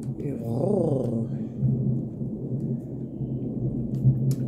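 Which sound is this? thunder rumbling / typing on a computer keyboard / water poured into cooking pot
thunder rumbling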